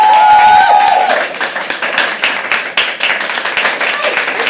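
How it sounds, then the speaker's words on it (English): Open mic poetry crowd keeps up a fast, scattered clapping, loud and close, with a whoop at the start and voices calling out over the hands. "Keep clapping"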